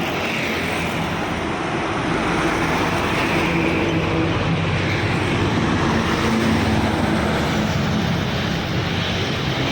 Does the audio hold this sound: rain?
no